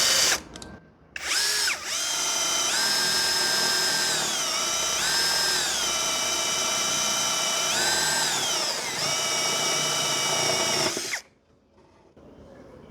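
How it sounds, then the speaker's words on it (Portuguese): A Makita DHP490Z brushless cordless drill bores with a 3/4 bit, its motor whining loudly and steadily for about ten seconds, with the pitch dipping and recovering as the trigger is varied, then stopping abruptly. "Vou começar aqui com uma broca de 3/4."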